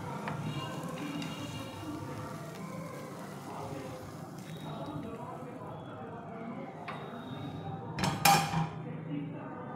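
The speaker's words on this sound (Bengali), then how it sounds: "এখন একটা প্লেটের মধ্যে উঠিয়ে নেব।" Cooked pasta is lifted onto a plate as metal utensils scrape and clink softly against cookware, ending in a brief burst of sharper clinks, while a person talks quietly throughout.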